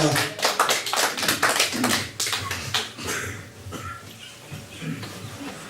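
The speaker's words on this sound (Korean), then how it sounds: "박수로 환영합니다" Applause from a church revival congregation welcoming a guest pastor, with a dense burst of clapping at the start that gradually thins into scattered claps and quiets down.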